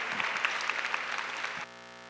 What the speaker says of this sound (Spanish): Y brindémosles un aplauso por el esfuerzo aquí tan bueno